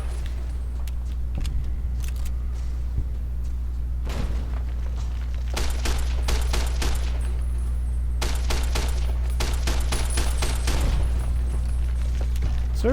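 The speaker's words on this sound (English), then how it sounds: "Service rifle's pretty good." Bursts of service rifle fire in the game Fallout New Vegas, rapid runs of crisp shots in several volleys over a steady low game hum, with a few scattered single shots between them.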